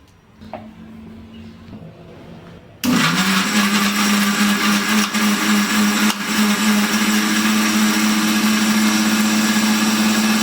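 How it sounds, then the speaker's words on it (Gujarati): A mixer grinder whirs into loud, steady blending of cooled spices for tomato ketchup after a brief quiet start, its motor droning continuously at close range. "હવે આપણે મિક્સર જારમાં પીસી લેશું."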